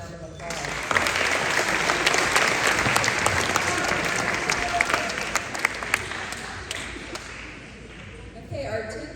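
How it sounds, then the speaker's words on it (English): Sustained applause from a large crowd at a high school academic awards ceremony fills the room, steady and dense for several seconds before tapering off toward the end. "Let's give them another round of applause."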